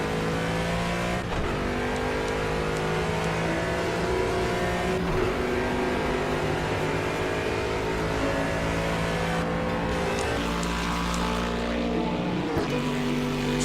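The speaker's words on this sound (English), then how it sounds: "we're on another straightaway, so you guys could still experience this Aston Martin engine in all of its glory." An Aston Martin engine in the racing video game Project Cars holds a steady, loud, sustained drone down a straightaway, with shifting harmonic whine and brief gear-change dips as the car keeps accelerating.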